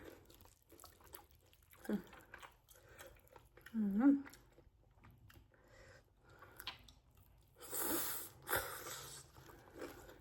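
Someone bites and chews som tam with crispy pork, giving faint crunchy mouth sounds and a few louder crackly bites at close range, with some talking.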